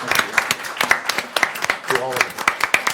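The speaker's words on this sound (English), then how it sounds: "And so I want to give them a round of applause for all the work that they do." Scattered audience applause at a United Mutual community meeting, irregular hand claps of moderate loudness from a modest crowd, with a brief voice speaking in the middle of the clapping.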